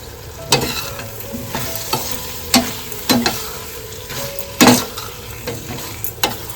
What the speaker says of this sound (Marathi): ह्याच्यामध्ये ते सर्व कोळंब्या घालून घेतोय